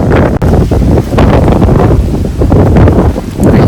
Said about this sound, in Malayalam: നല്ല കാറ്റാണ്, നല്ല തണുത്ത കാറ്റ്, അടിപൊളി